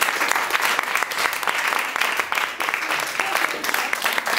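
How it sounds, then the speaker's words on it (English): An audience at a talk on superfoods and longevity gives dense, continuous applause, loud and steady throughout with sharp individual claps standing out in the wash. "Let's give them a round of applause."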